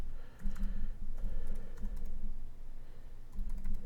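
Computer keyboard typing during drafting work on a foundation detail, steady clusters of key clicks over a low background hum, fairly close and continuous with brief pauses.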